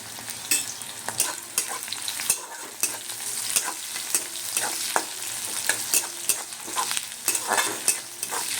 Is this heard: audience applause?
no